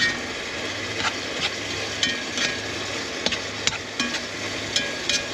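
Mince fries in a camp pan with Krunchilli, tablespoons of chilli oil in among the crispy bits, and a spoon stirs it. The sizzle is steady and close, with a few scraping knocks from the utensil.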